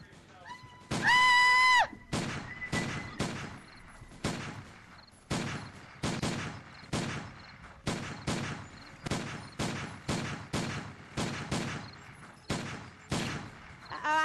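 Gunfire in a VR zombie shooting game rings out as a long run of sharp, evenly spaced shots, a dozen or more loud bangs, with a brief electronic tone near the start.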